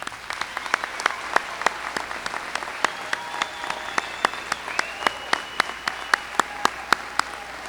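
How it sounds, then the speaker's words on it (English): A crowd applauds with steady, scattered clapping at moderate volume, sounding like a large audience in a hall, with faint voices underneath, at a high school graduation ceremony. "Let's give these graduates a round of applause."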